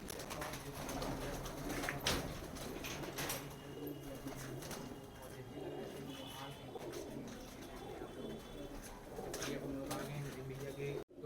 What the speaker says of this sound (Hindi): ये गर्मी की तैयारी के लिए कबूतर हैं